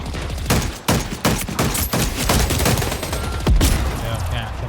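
Carbine gunfire in a multiplayer shooter game, rapid loud bursts of shots fired up close in quick succession, repeating throughout.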